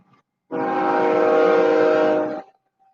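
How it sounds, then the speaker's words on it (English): A train horn sounds one sustained, loud, harmonic blast lasting about two seconds, starting abruptly and fading out, with near silence on either side. "Train."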